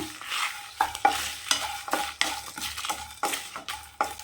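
Whole spices for a mutton curry are dry-roasted in a pan, a spatula scraping and stirring in regular strokes with sharp metallic clinks against the pan, close and fairly quiet.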